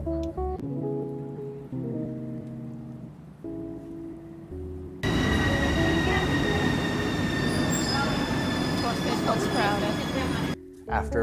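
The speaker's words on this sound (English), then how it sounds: "it was back into the metro to get back to our hotel." Bucharest metro train ride: a steady rumble under a voice at first, then from about five seconds a loud, dense roar of the moving train with high wheel squeal, easing off near the end.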